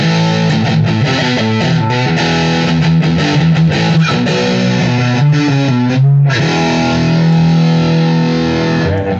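Heavily overdriven electric guitar plays through a mystery amplifier's overdrive channel: loud, saturated metal-style chugs and chords with a brief cut near the middle, then ringing on.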